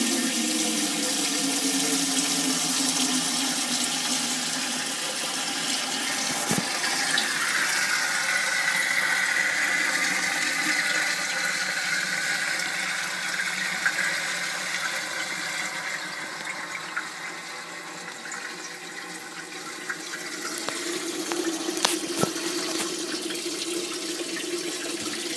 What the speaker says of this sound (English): first I've got to fill it with water. So I'll put the pipe in there.